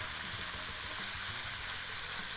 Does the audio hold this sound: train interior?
no